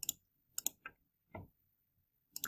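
A few quick plastic key presses on a calculator keypad as numbers are entered, forming short clustered clicks with small gaps between them, close and fairly quiet, with no voices.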